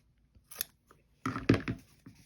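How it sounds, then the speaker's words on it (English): Scissors snipping off an extra piece of fabric at a sewing table: a faint early snip, then a louder close cluster of crisp cuts and rustling cloth near the end, no talk. "And I now can cut this extra piece off."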